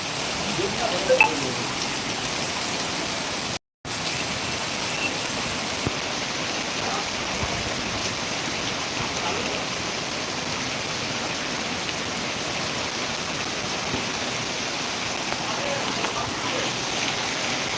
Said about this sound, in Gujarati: આજે પાંથાવાડામાં ધોધમાર વરસાદ ખાબક્યો જેને લઈને રોડ પર પાણી ભરાયા છે